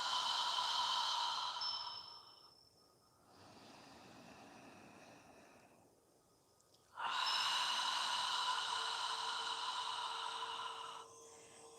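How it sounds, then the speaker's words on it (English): During a yoga session, a person breathes deeply and slowly, with long, loud open-mouth exhales like fogging a mirror, a quieter inhale in between, and a second strong exhale. There is no speech. "exhale with your mouth open wide. Follow your breathing."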